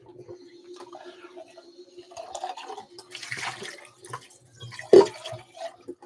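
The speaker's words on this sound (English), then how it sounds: "Rinse this out." Water runs and splashes as a cappuccino cup is rinsed out, in intermittent close bursts with a sharper splash near the end and no talk.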